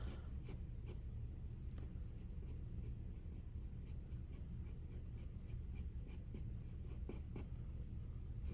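Pencil scratching and shading on paper while an eye socket is sketched in a still-life drawing, a steady close scratchy texture with light repeated strokes and no talking.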